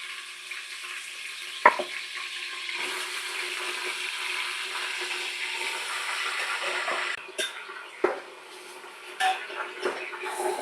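Meat and oil frying in a pressure cooker with onions and chili, a steady broad sizzle that holds for most of the clip, with a few clanks of a utensil toward the end.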